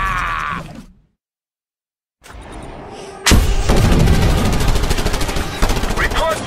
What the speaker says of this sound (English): Now, the true power of Chinese fireworks will be revealed!